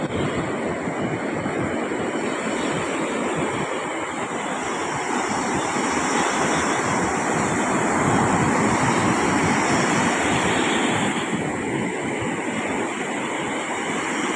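Post-typhoon ocean surf rolls in as a steady, loud wash of breaking waves, with wind buffeting the microphone throughout and no voices.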